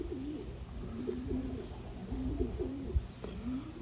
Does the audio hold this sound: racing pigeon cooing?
yes